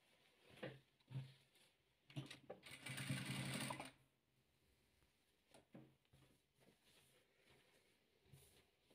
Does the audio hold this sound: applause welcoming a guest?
no